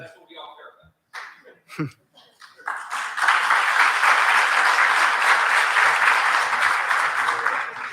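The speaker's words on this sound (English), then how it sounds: "Another round of applause." A conference audience at a sales event breaks into dense applause after a few quiet seconds of small sounds, then keeps up a loud, sustained wash of clapping to the end.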